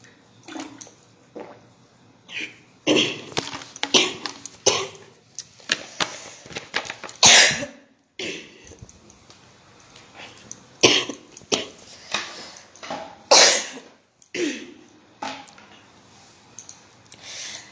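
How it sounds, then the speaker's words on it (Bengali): A person with a cold coughs repeatedly in harsh, irregular bursts close by, with some quieter throaty sounds and faint background noise between them. "ঠান্ডা লেগে গেছে, কাশি হচ্ছে"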